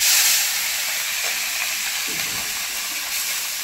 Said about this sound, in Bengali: বাকি মাছগুলো তেলের মধ্যে দেব।